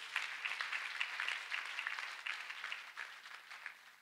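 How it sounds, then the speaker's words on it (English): An audience at a prayer meeting clapping steadily throughout, a dense continuous applause with no talk. "Let us clap for Master Jesus."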